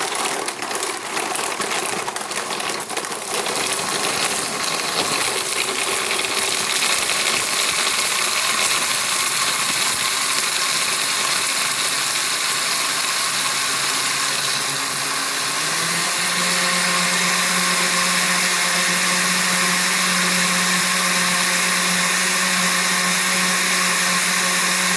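A blender whirring through a plant-based smoothie with walnuts, loud and continuous, with rough crunching early on that settles into a steady high-speed roar, its motor tone stepping up midway.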